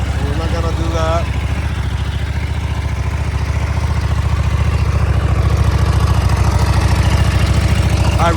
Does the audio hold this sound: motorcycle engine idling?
yes